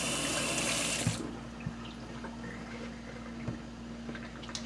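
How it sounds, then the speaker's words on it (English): A kitchen tap runs steadily as hands are washed under it, a strong rush of water that cuts back to a quieter trickle with faint splashes and clinks, close by and without talk. "Let me give my hands a wash so I can show you what I'm talking about."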